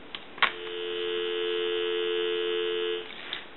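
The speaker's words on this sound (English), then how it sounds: "I want to give you some dial tone" A steady dial tone on a Western Electric Princess telephone hums continuously for about two and a half seconds, framed by soft clicks as the line picks up and drops.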